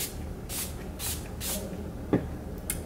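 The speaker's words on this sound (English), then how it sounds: "I'm gonna go ahead and shake it up and then spray" Several short hissing spray bursts from a setting spray bottle, evenly spaced and close, with a faint rattle near the end.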